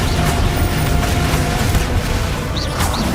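Bombarda spell blast in Hogwarts Legacy, a loud booming explosion with splintering, crashing debris that fills the whole moment, dense and continuous, followed by faint chirping magical tones near the end.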